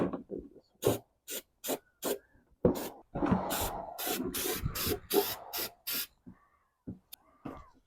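Short bursts of spray from a can of Steelit coating hit a BMW E36 subframe, a series of sharp hissing puffs with one longer continuous spray in the middle, close and clear.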